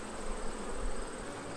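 Honey bees buzz steadily at an open hive during a colony check, a soft, continuous hum with no talk, fairly faint and even throughout.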